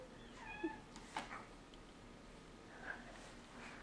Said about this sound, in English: there's kitty cats